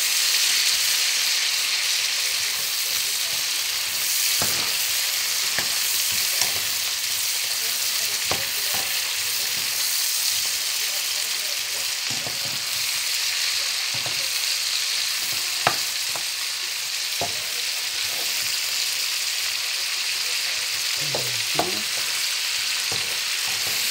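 Shrimp fry in butter and garlic in a pan, giving a continuous bright sizzle with frequent scraping and tapping of a utensil as they are stirred, and no talk over it.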